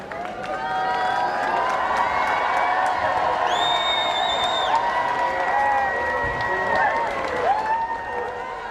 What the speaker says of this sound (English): So delighted crowds waving off the Queen and the Duke of Edinburgh.